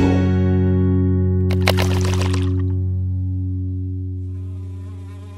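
Insect buzzing from flies, heard as a sustained high drone that runs through the clip over a steady tonal music bed, with a brief rustling burst near the middle.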